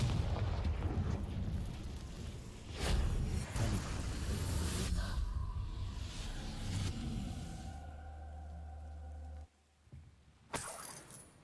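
The Confringo blasting spell in Hogwarts Legacy sets off booming explosions: several deep rumbling blasts with a sustained roar, a sudden drop to quiet, then another sharp burst.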